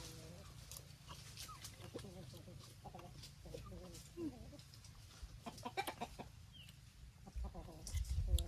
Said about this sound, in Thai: ไก่นี่ก็ติดคนค่ะ